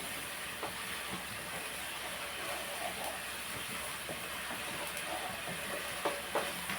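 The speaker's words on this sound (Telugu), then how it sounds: "బాగా వేగనిద్దామండి" Salted taro (colocasia) pieces fry in a pan with a steady, fairly quiet crackling sizzle, a few faint clinks of stirring near the end.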